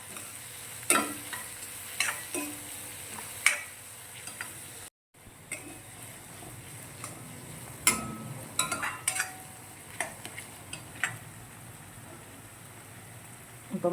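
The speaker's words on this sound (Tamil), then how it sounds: "வெங்காயம் நல்லா வதங்கட்டும்." Chopped large onions with a little salt sautéing in a pan for a rock fish curry, a soft continuous sizzle punctuated by sharp scrapes and clacks of a spoon stirring at intervals.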